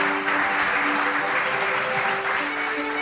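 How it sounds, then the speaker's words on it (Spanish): Studio audience applause on a Spanish radio programme, steady and fairly close, a continuous wash of clapping lasting the whole few seconds without talk. "Se merece un aplauso, Jesús, también."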